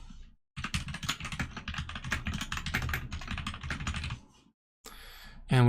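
A commit message is typed on a computer keyboard in a dense, rapid run of close keystrokes lasting a few seconds, followed by a short silence and then a faint voice.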